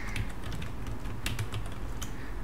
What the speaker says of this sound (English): Here I'm typing my name,